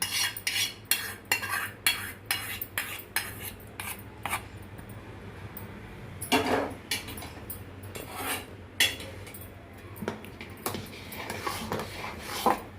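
A spoon stirs cashews, raisins and coconut pieces into a pot of sweet pongal prasadam made without milk, giving repeated close metallic scrapes and clinks against the pot at an uneven rhythm with brief pauses.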